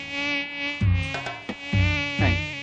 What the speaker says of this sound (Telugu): ఈగలు ఒకటి.